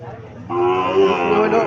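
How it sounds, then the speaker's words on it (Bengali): A Sahiwal calf moos once, a sustained nasal bawl rising after a brief low lead-in, close and fairly loud with no talking. "এখানে একটা বাছুর দেখা যাচ্ছে,"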